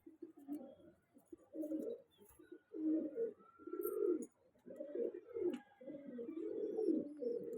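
A female pigeon coos in low, rounded bursts, with several repeated calls in an uneven rhythm, close and soft with no voices.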